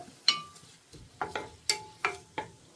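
Onions sautéing in a pan with chili garlic sauce for cauliflower rice, quiet sizzle under repeated sharp clinks and scrapes of a spoon stirring against the pan, about six strokes in an uneven rhythm.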